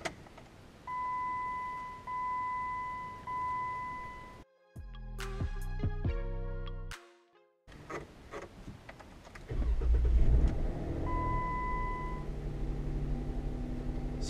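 A Jeep Wrangler JK sounds a repeating electronic chime, then its engine cranks and catches, goes quiet briefly, and settles into a loud, close idle that swells with revving.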